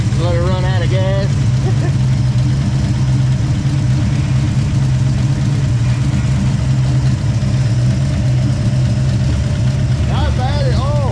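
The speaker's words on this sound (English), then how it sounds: "it sounds great. Oh, the engine's tight." A restored engine nicknamed Lieutenant Dan idles steadily and loud throughout, a low, even rumble with people talking briefly at the start and end.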